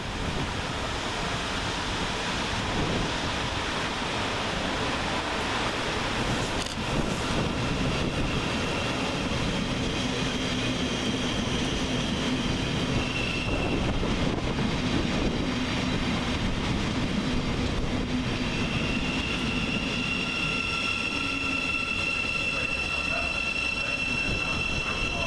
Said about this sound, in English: 700-053 is next to arrive, terminating with a Govia Thameslink service from Rainham